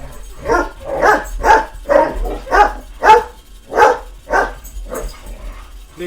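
Two pet dogs playing rough, with a rapid series of about ten loud, close barks and growly yips in a steady rhythm and little else in the background.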